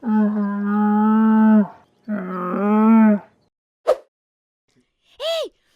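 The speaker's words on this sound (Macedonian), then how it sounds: "Јас не знам како прави точно камилата." A camel calls twice in long, deep, groaning bellows, close and loud, followed by a short snort and a brief rising grunt.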